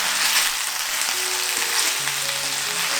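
Sausages (bangers) sizzle and crackle steadily in a hot frying pan, a dense, even hiss close by with no talk.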